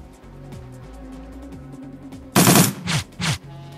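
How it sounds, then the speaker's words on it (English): Gunfire in the Shadowrun Returns video game: a loud, dense burst of shots followed by two shorter bursts, standing out over quiet game background. "Let's shoot him anyway."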